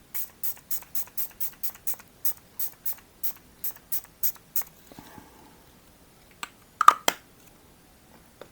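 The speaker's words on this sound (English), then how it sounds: "Last is setting spray." Makeup setting spray pumped from a bottle onto the face: about a dozen short, evenly spaced hissing spritzes in quick succession, close and crisp, followed by a pause and a couple of faint rustles and one last spray.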